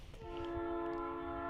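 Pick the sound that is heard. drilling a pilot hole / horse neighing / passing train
passing train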